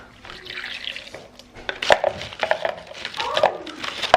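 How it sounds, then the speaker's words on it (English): Blueberries rinsed under a running kitchen tap while a smoothie is made, with splashing water, light clatter and a few sharp knocks close by. "I'll wash some blueberries"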